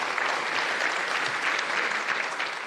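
Audience applause after a political panel debate on energy at Arendalsuka, a dense, steady clatter of many hands clapping together, loud and close, fading slightly toward the end, with no voices over it.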